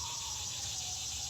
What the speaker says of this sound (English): And the katydids are going.